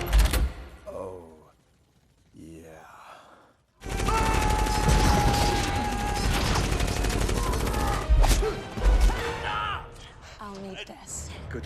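Gunfire from a Guardians of the Galaxy film battle scene, a dense sustained volley of shots over a loud action soundtrack after brief shouted dialogue, with heavy bursts near the end.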